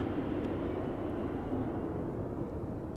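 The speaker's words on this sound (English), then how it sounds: "Always nice if such a small airplane makes such a big sound." A small airplane using its thrust reversers on landing at Amsterdam Schiphol Airport, a steady broad roar that stays loud throughout without a break.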